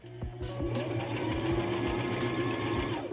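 A sewing machine topstitching a flannel shirt, a fast steady needle chatter with a motor hum, close and continuous, with no one speaking.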